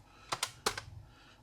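Fingers tapping keys on the keyboard of a Sirius ZX Spectrum clone computer, a few quick close clicks in two short bursts with a faint trailing tap, alone in a quiet room.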